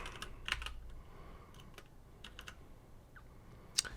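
A computer keyboard clicks close by as a command is typed at a command line, with scattered quick keystrokes in short bursts separated by brief pauses and no talking.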